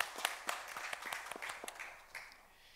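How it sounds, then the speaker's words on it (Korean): A church congregation gives a short round of applause during a Korean Sunday service, the claps starting fairly dense and loud, then thinning out and fading within a few seconds. "하나님께 영광의 박수 올려드리겠습니다"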